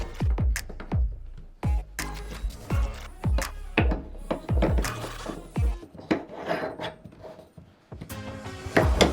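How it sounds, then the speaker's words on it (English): A bathtub drain stopper is set down into a new drain and screwed in, giving a close series of sharp knocks and clunks mixed with scraping and rubbing. "Put the stopper down and screw it in."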